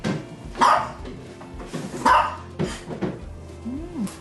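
A dog barks in short, loud bursts during crate training indoors, several separate barks spaced about a second and a half apart, with a small whine near the end.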